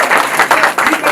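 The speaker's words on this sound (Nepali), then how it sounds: "हामी एकचोटि फेरि ताली बजाएर धन्यवाद" Wedding guests clap together in a short, lively burst of applause, close and fairly loud, with a few voices mixed in.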